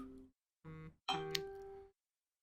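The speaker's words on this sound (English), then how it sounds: "there's my phone beeping away, telling me that emails are coming in" A phone chiming for incoming emails, three short soft tonal beeps in sequence, the last one longer and brighter, faint and alone in a quiet room.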